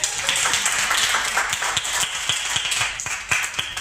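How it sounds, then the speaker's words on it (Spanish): Audience applause at a literary debate during a book fair in Cieza, a dense, steady patter of many hands clapping close by for the whole stretch, with sharper individual claps standing out. "Un aplauso, Israel."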